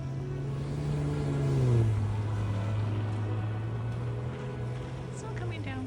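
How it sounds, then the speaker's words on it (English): A snowblower runs outside on a snowy morning, a steady droning engine hum that swells briefly and then holds at a constant level through the whole stretch, moderately near, with no speech over it. "Someone's using a snowblower, otherwise it would be like quiet and peaceful."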